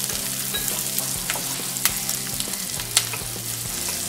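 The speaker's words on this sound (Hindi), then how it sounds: "प्याज को 1-2 मिनट भूनने के बाद अब हम इसमें लहसुन डालेंगे" Garlic and onions frying in butter for a paneer butter masala, a steady close sizzle with a few sharp pops and spatters throughout.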